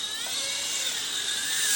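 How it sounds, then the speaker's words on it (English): A Holy Stone mini drone flies close by, its high, whining propeller buzz steady and near, with the pitch wavering slightly, heard alone. "Yeah, that is a super controllable drone."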